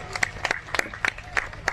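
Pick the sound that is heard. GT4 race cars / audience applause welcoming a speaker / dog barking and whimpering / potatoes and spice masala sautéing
audience applause welcoming a speaker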